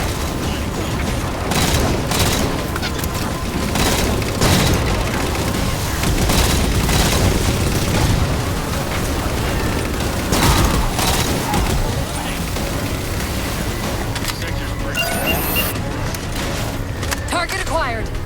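Halo 4 combat with a railgun firing at Phantom dropships: repeated heavy booms and blasts over a dense, continuous roar of battle noise and mechanical clatter.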